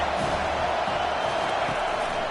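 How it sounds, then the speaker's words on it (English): Football stadium crowd roaring at a steady, dense level throughout, a broad wash of many voices with no breaks, loud and enveloping. "This crowd trying to make life miserable for this offense."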